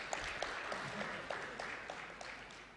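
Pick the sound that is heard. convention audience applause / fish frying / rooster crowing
convention audience applause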